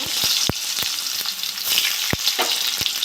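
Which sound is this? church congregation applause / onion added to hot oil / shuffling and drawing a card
onion added to hot oil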